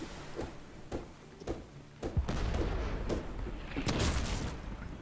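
Ship cannons firing in the pirate naval game Blazing Sails, a string of sharp booming shots at a steady rhythm before a denser burst of overlapping blasts and rumble.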